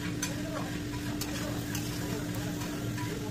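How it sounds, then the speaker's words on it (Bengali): Whole dried chilies and cinnamon sputter and sizzle in hot oil for tempering a new-potato curry, a steady close crackle with a constant low hum underneath. "আর কিছু গোটা মশলা নিয়েছি, লঙ্কা, দারচিনি, এগুলো জাস্ট ফোড়ন দেবো।"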